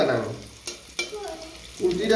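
Kulthi dal fries in a pan with a low sizzle and a few scraping stirs, while voices talk intermittently over it.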